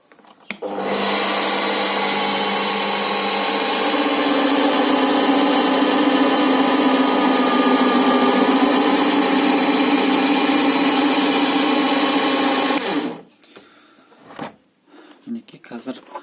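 A Zubr vertical drilling machine runs with a loud, steady motor whine for about twelve seconds, then spins down, followed by a few faint knocks.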